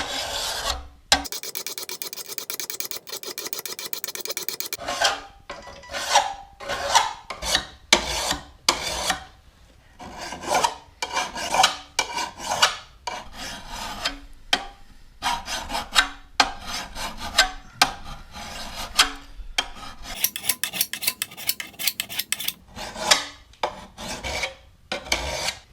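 A metal file rasps across a lawnmower blade in long series of loud, close strokes, a busy stretch first and then a regular back-and-forth rhythm of harsh grinding passes with short gaps between them.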